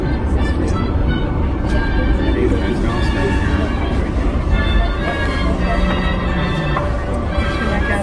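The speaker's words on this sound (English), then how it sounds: "Take the whole slack out of this train, so there will be a little jar probably." A train rolls along with a steady, loud, broadband rumble and rattle that runs unbroken from start to finish, plus a faint tonal squeal partway through, with wind buffeting the microphone.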